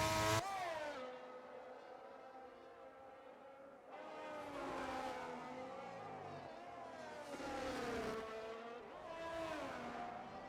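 Race car engine in a sim-racing Grand Prix at the Austrian circuit, revving hard and climbing through gears with a short upshift dip around four seconds, loud and continuous with no talk over it.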